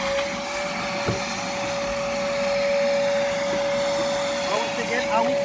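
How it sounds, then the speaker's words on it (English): A vacuum cleaner runs continuously while cleaning a car interior, a loud steady whine with a sustained tone and occasional knocks and shifts as the nozzle moves. "You need to vacuum the car."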